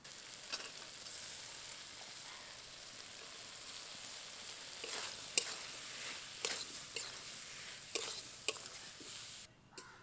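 Soaked toor dal, vegetables and spices are stirred in a kadai, a steady low sizzle beneath sharp, intermittent scraping strokes of the spoon against the pan, with no voices.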